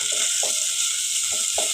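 Garlic and shallots for a fish curry sizzle loudly in oil in a pan. Short spoon scrapes stir through them at an uneven rhythm.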